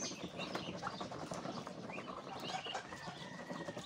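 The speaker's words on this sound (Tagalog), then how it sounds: "Ayan po yung aking maliliit na pato" A small flock of young ducklings peeps and chirps continuously amid faint, noisy outdoor background, the calls soft and overlapping with no single voice standing out.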